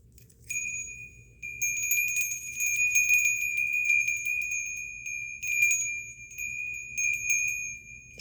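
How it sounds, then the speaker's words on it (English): A Tibetan bell rings out with a clear, sustained metallic tone, struck a few times so the shimmering ring swells and lingers steadily with no talking. "This is a Tibetan bell"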